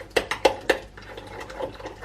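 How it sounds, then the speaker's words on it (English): Spoon stirring Greek yogurt in a bowl, three sharp clinks against the bowl in quick succession followed by softer scraping taps, close and clear with no talking. "I'm going to give it a little stir and just see what the consistency looks like"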